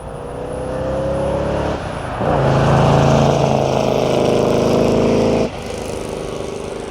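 A 1967 Chevrolet Corvette with close to 400 horsepower passes by, its loud engine swelling and shifting pitch, then dropping off sharply as it moves away.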